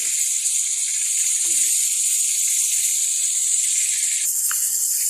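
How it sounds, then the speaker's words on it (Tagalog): Steady, loud sizzling hiss of tilapia frying in hot oil, continuous throughout with a brief soft clink partway. "Habang nag-prito tayo naman ng tilapia na isasahog natin."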